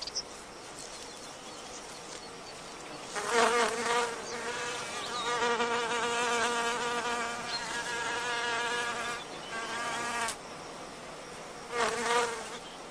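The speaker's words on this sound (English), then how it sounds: "As the male wasp nuzzles forward in his attempts to mate, he butts the pollinia which stick to him like yellow horns." A male wasp buzzes while trying to mate with a wild orchid, a close insect drone with a steady harmonic whine that swells louder around 3 to 4 seconds, holds through the middle, and flares again near 12 seconds, with no voices.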